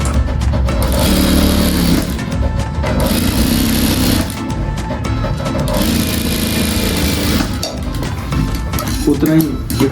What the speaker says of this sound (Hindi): ये हम खर्चे की सिलाइयाँ लगा रहे हैं, इनको कहते हैं खर्चे की सिलाइयाँ